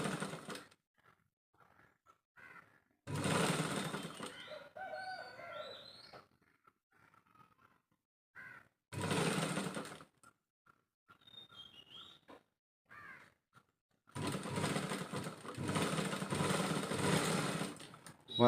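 An electric sewing machine stitches a princess-cut blouse in four whirring bursts of a few seconds each, separated by quiet pauses with soft handling sounds.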